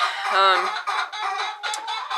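Hens in a chicken house cluck in short, throaty bursts, several calls in quick succession, close and clear with no other sound around them.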